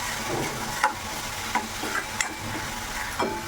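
A ground spice paste is stirred into a potato vegetable dish, each stroke of the spoon giving a soft scrape and clack several times over a low, quiet sizzle, close by and without speech.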